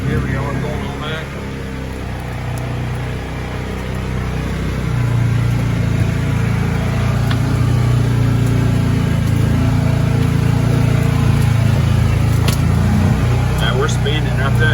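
Polaris Ranger UTV fitted with a quiet exhaust, driving along a trail: a steady, moderate engine drone that holds even and rises slightly in the second half.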